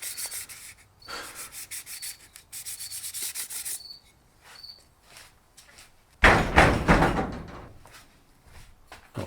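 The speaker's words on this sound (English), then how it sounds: "So more sanding." Hand sanding of an oiled wooden handle on a pre-WWI saw being restored, with repeated close rubbing strokes, brief pauses between them, and a louder, harsher burst of scraping near the end.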